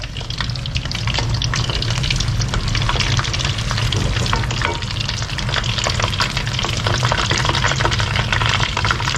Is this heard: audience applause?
no